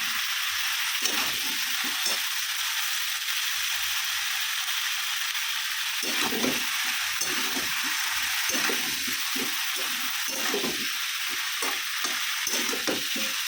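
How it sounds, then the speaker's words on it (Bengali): A paste of ginger, garlic, onion and green chili frying in hot oil: a loud, constant sizzle with bursts of rattling, clacking stirring against the pan, close up and with no talking. "আর এই যে পেস্ট করাটা ছিল এটা দিয়ে দিলাম, আদা রসুন পেঁয়াজ, কাঁচা লঙ্কা"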